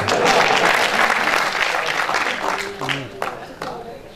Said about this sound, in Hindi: मेरे लिए तो तालियां बजा दो